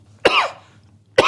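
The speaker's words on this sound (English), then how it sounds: "Beats listening to him cough" A man gives two sharp, close coughs about a second apart, each a harsh throaty burst trailing into a brief rasp, with quiet between them.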